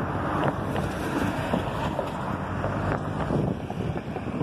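Steady, blustery wind roaring across the microphone, broadband and continuous with gusty surges, like open water nearby; no voices.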